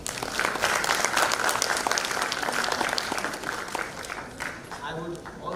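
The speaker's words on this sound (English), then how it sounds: "a round of applause for sir." Audience applause at an international conference on inclusivity, steady and fairly loud clapping from a crowd, tapering slightly toward the end with faint voices beneath.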